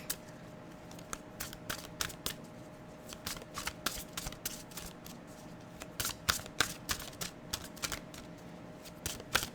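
Oracle cards are shuffled by hand in quick, crisp riffling flicks that repeat irregularly for nearly ten seconds, soft and close against a quiet room.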